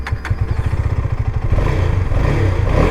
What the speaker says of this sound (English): let me make you hear the exhaust sound.